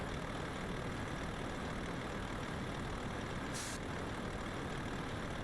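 A truck engine idles in Euro Truck Simulator 2 with a quiet, steady low rumble. A brief hiss cuts in once near the end.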